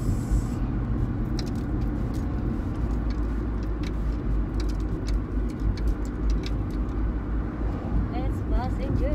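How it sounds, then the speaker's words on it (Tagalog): Heavy vehicle traffic on a road, with a passenger bus rumbling by, a loud low engine drone throughout with ticking clicks and speech audible over it. "It's passenger bus."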